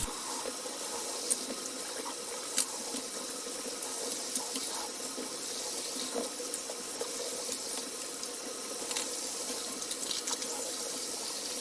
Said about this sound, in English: now we're going to just rinse everything off and dry it